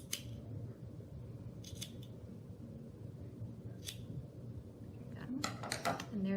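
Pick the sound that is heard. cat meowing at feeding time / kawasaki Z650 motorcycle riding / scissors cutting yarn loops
scissors cutting yarn loops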